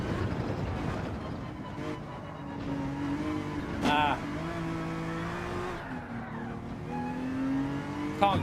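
A race car's engine revs and shifts through gears in Gran Turismo 7 while driving through gravel, with tires squealing and a sharp impact near the middle, steady and fairly close under background speech.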